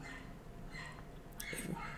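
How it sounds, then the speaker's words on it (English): A dog barks a few times in short yips toward the end, faint and somewhat distant within a quiet room tone, with no talk over it. "my dog's barking"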